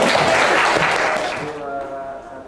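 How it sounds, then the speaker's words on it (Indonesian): A classroom group claps for the first presenting group at a school lesson on alternative energy, a dense burst of applause that starts loud and tapers off over a couple of seconds. "Ya, kita kasih tepuk tangan untuk kelompok 1."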